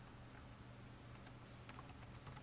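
Computer keyboard typing while entering input for a Python program, a soft run of quick, irregular clicks over a steady low hum, fairly faint and without any talk.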